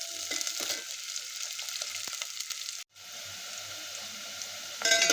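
Onion sautéing in a pan, a close continuous sizzle with light stirring scrapes, briefly cutting out before the frying hiss resumes and swells louder at the end.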